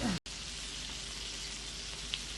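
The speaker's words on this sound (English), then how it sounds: "Now I'm going to flip the salmon." Salmon fillet frying in a pan just after being flipped, a steady close sizzle and spit of hot oil with a brief dropout near the start.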